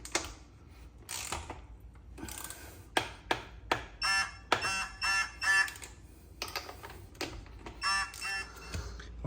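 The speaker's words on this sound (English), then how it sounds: "I'm gonna tighten the lug nuts." A torque wrench ratchets and clicks in a series of short, irregular bursts while lug nuts on a 2012 Jeep Wrangler Rubicon are tightened to 100 foot-pounds, heard close up.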